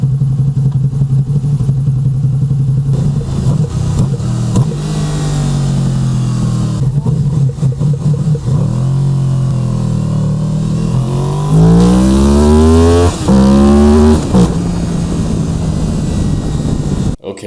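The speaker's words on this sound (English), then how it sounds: "when the bike is on, all you hear is the exhaust" A motorcycle's exhaust booms loudly up close while it is ridden, rising and falling in pitch as the rider throttles up and eases off, with rising revving sweeps near the end.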